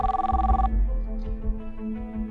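A telephone rings in a home early in the morning, a steady electronic ring starting loud and then fading under a low background hum for a couple of seconds.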